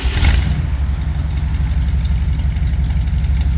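Ford F100 V8 idling with a shortened glass pack muffler, a loud close low rumbling burble with a steady uneven lope, alone.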